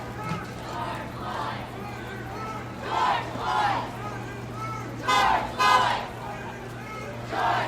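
A protest crowd marching toward the California Capitol passes by, with rhythmic shouted chanting swelling in bursts over a steady low hum and crowd murmur, fairly close.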